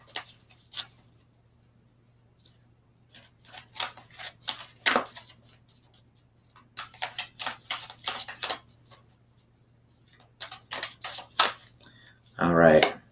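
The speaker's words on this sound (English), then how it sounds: "These are not the easiest card to shuffle." A deck of gothic-themed oracle cards is shuffled by hand during a tarot-style reading, giving off bursts of crisp riffling and flicking in short irregular clusters between quiet pauses, close and clear.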